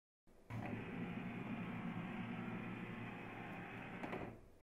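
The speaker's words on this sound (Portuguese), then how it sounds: "pressione o botão Iniciar cópia colorida para digitalizar a página de alinhamento" An HP DeskJet 2700 printer scans its alignment page with a steady mechanical hum and whir that starts abruptly, holds for about four seconds and then stops. It sounds faint and close, with no talking.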